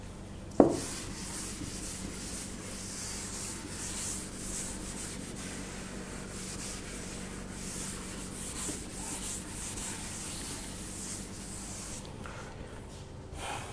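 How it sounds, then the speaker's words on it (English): A classroom blackboard is wiped clean, a sharp knock followed by a long, steady, soft rubbing scrape that goes on at a low level. "Shall I rub off the question?"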